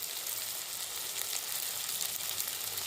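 Spice paste with turmeric, Kashmiri red chilli powder and coriander powder sautéing in a pan for a Bengali katla fish and potato curry, a steady close sizzle and crackle throughout with no talking.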